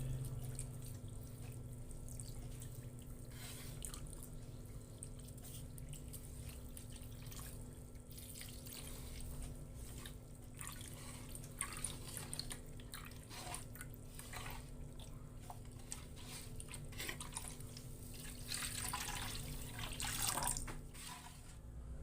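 Coconut milk of medium thickness, a full liter, pours slowly into a pot while being stirred, giving a steady close-up trickle and sloshing with faint clinks, no voices.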